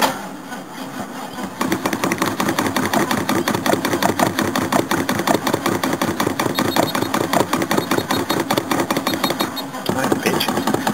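After a cold start on petrol, a Jaguar V8 idles with a loud, steady, rapid pulsing beat that runs close up and unbroken for most of the stretch.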